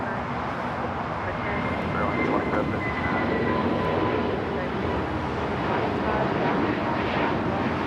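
An Airbus A350-1000 jet airliner takes off at LAX, its engines a broad, sustained roar that swells slightly, heard from a distance, with voices talking over it.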